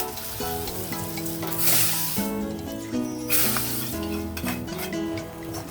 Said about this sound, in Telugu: ఇదిగో నేను పక్కన తాలింపు చేస్తాను నెయ్యితోటి